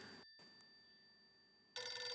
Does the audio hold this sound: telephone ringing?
yes